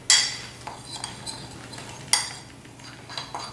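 A spoon mixes ground coriander, cumin, paprika and cayenne in a bowl, giving a handful of close, bright clinks and scrapes spaced irregularly, with a sharper knock near the middle.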